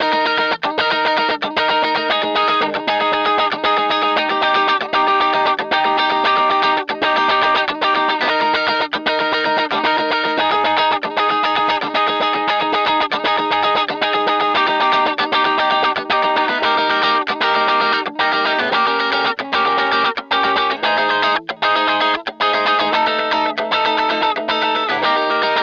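Twangy, heavily effected electric guitar with distortion and chorus plays the pre-chorus part of a song in a dense, loud, continuous strummed and picked pattern, with no talking.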